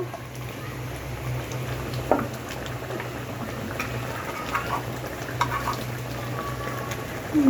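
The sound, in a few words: water boiling in the pot before fish are added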